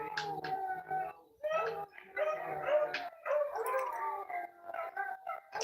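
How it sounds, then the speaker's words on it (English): Several dogs howl and bark together nearby, long wavering howls mixed with yips and short barks in overlapping bursts, with a siren reportedly passing beyond them. "I'm trying to see the dog stop barking."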